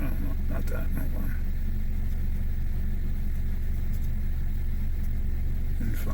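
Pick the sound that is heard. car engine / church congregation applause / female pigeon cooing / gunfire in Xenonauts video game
car engine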